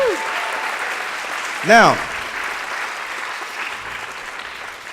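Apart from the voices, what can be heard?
audience applause at a live show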